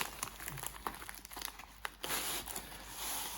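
Plastic packaging around a diamond painting canvas crinkles and crumples close by in quick irregular bursts, with a louder sustained rustle near the end, fairly quiet overall.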